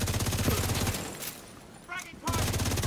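Rapid machine gun fire rattles in The Division 2, a dense run of evenly spaced shots that stops briefly, leaving quieter game sounds, then starts again just as loud.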